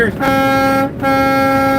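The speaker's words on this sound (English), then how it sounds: "I'm going to throw the air horn on" A loud, sustained truck air horn blasts in high winds in Kansas, cuts off briefly, then sounds again in a second long blare.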